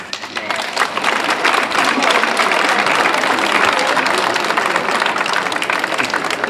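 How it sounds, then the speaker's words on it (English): A large crowd at a high school graduation ceremony applauds loudly and steadily for several seconds, a dense wash of clapping hands with no break. "give them a big round of applause"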